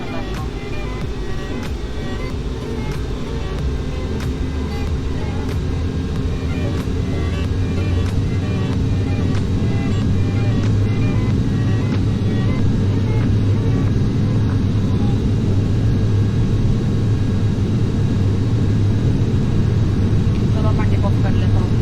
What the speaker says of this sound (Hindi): अब मैं थ्रॉटल इंक्रीज करूँगा, सीधा टेक ऑफ करूँगा